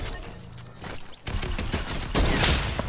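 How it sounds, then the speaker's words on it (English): Heavy sniper rifle fire in the online shooter game Arsenal, with rapid bursts of gunfire and sharp reports crowding together in a loud, continuous fusillade. "he lands and just sniped me with the heavy sniper"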